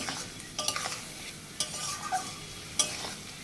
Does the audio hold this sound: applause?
no